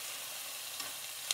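Steaks with onions sizzle in a frying pan as they are moved around, giving a steady close hiss with a couple of faint scraping knocks.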